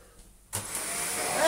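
A Shark vacuum cleaner switches on indoors with a sudden broadband roar after a quiet start, then runs steadily and loudly, its whine building slightly toward the end.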